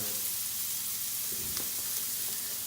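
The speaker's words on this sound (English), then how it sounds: "We're gonna add a little bit more just to help fry everything. We're gonna go in with the shallot and the caper." Shallots and capers fry in oil in a pan, a steady close sizzle with a few brief stirring clatters, no talk.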